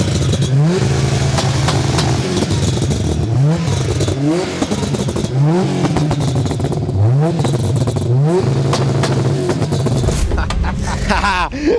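A 600 hp Subaru GT Turbo race car idles roughly while warming up. The engine is blipped with loud, sharp revs every second or so, and clattering and popping sounds come between the revs, all close by.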